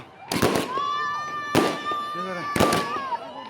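Fireworks and firecrackers at a college DJ night event burst in three loud separate volleys, with a crowd's voices and shouting carrying between the blasts.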